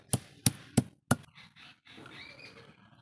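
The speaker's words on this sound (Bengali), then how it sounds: "এখন একটু এই যে শিলপাটায় করে ছেঁচে নিব।" Food crushed on a shil-pata grinding stone, four sharp close pounding knocks in quick succession, followed by softer scraping and rubbing strokes on the stone.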